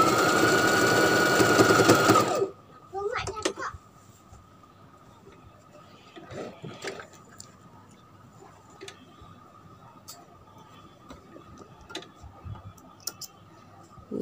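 A sewing machine runs fast and loud for about two seconds while stitching a sleeve onto a T-shirt, then stops; quieter clicks and handling taps follow, with faint voices in the background.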